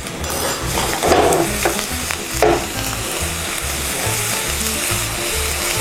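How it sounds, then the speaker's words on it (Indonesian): Onion and garlic sautéing in a pan for bolognese sauce, a loud continuous sizzle with steady scraping stirs throughout, close up and with no talk. "Kita tumis lagi sampai bombaynya mateng."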